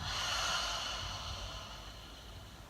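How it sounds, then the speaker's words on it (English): A deep, drawn-out exhale during yoga breathing, a soft continuous breathy rush of air through the nose, close and steady before fading slightly. "And then deep exhale."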